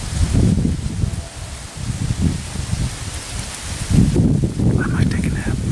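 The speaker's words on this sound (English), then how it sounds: "My tree's gonna break, it's so windy." Gusting wind rushes through trees in a Missouri woodland, heard from a tree stand, leaves rustling in waves that swell and fade, close and fairly loud throughout.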